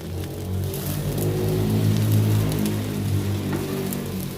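A continuous roar of road traffic, low rumbling engines and tyre hiss blending into a steady wash of noise with no voices.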